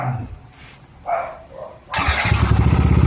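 A Yamaha NMAX motorcycle engine catches after brief mechanical sounds and settles into a loud, steady, throbbing idle up close.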